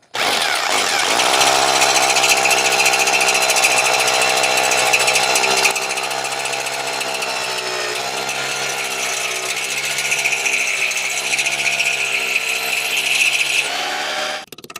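Power drill boring holes to fix rooftop skylight glass, a loud continuous grinding whine that shifts slightly partway through, close up with no talk.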